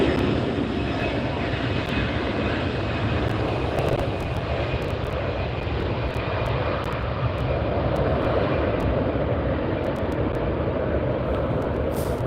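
A Delta airliner at LAX roars steadily with loud, continuous jet engine noise, a broad unbroken rush that holds at a constant level throughout.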